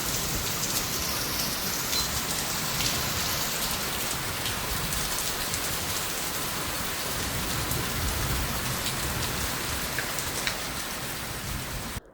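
Heavy rain pours down continuously, a dense, even hiss of drops hitting surfaces with no break, loud and close throughout.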